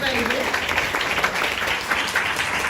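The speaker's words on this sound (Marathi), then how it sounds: "मला वाटतं विद्यार्थ्यांनी यासाठी खूप टाळ्या वाजवल्या पाहिजे" Students applaud at a foundation day programme in Koparkhairane, Navi Mumbai: a steady wash of clapping runs throughout, with a voice talking over the start.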